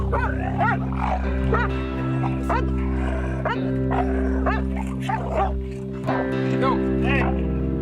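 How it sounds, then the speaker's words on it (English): Pit bulls snarl and bark ferociously in a close, chaotic fight, with growls and yelps overlapping, over a low steady engine-like hum. "One dog bites the other, and they break into a frenzy."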